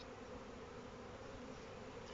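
Black honey bees buzz around an opened hive frame in a dense, steady, even drone that holds close and constant throughout.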